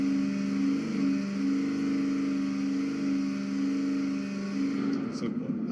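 A piston engine holds steady at 3,000 RPM on a dyno, a loud, constant low drone with an even, unwavering hum throughout and a slight disturbance just before it ends.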